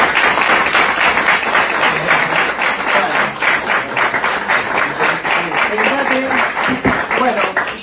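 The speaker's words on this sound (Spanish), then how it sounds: "fuerte aplauso para Daniel." Audience applauding for an author at a literature event in a sustained, dense burst of clapping, loud and close, with voices mixing in toward the end.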